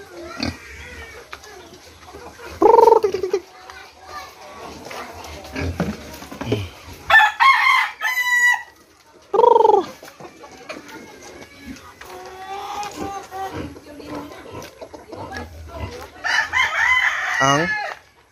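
Farm chickens cluck and a rooster crows several times in loud bursts, with other fowl and pig-like grunts scattered around, and quiet talk running underneath.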